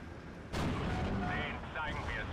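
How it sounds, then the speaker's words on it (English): Panzer IV tank gun firing at a Pak 40 anti-tank gun in the World War II strategy game Steel Division: Normandy 44, a single sharp loud boom with a rolling tail under ongoing battle noise. "Can we get a shot in with the Panzer IV before it stops?"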